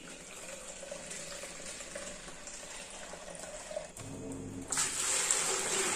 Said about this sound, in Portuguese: Vou encher essa bacia aqui para poder colocar água sanitária